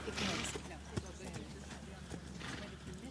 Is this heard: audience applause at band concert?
no